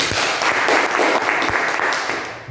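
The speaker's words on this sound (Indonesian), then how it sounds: "Silakan tepuk tangan dulu" Students in an automotive classroom clap together in a sustained, dense round of applause that holds steady for a couple of seconds, then begins to taper off.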